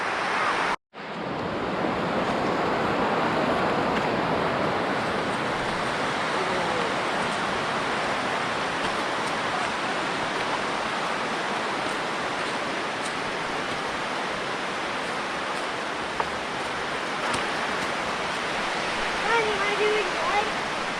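A waterfall at Stinging Fork Falls in high flow, a continuous dense roar of rushing, crashing water, loud and close, unbroken for the whole stretch after a brief dropout at the start.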